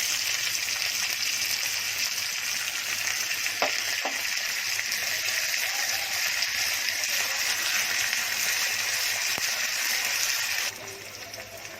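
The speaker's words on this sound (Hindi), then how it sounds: "मैं तड़का ऐसे ही देती हूँ, एकदम काला करती नहीं," Continuous loud sizzling of spices tempering in hot oil for medu vada, with a couple of faint clinks, then the hiss drops slightly near the end.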